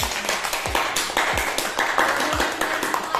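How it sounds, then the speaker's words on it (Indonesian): A classroom of students claps after a teacher's question, a short burst of dense, close applause lasting a few seconds. "Baik, beri tepuk tangan buat kalian."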